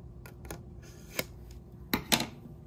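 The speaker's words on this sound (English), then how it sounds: "we're going to take the little flaps and we're going to do an angle cut" Scissors snip through cardboard tabs for a miniature bookcase in a few sharp, separate cuts close by, a couple near the start, one in the middle and a louder pair near the end, with no talk.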